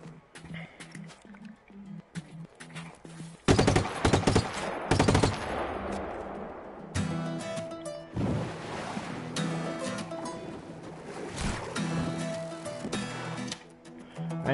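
Video game gunfire rattles in dense, loud automatic bursts over a rumbling background, breaking off and resuming with scattered single shots.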